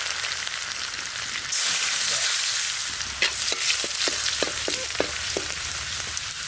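Dried red chillies, cumin and other whole spices crackle and sizzle in hot oil for a village-style singi fish curry with thankuni leaves, a steady loud fry with sharp pops and stirring clinks, no voices.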